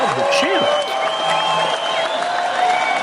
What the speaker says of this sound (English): everybody give a big round of applause for Anthony Connor